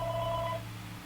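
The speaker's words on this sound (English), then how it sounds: "going to answer the phone" A telephone rings indoors during a podcast recording at a record shop, a short steady electronic ring heard alone and fairly faint, with no talk over it.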